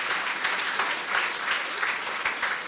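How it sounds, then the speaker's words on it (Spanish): Congregation at a church service breaking into strong, sustained applause, a dense wash of clapping from many hands that carries on evenly throughout. "ríndele una fuerte ofrenda de aplausos"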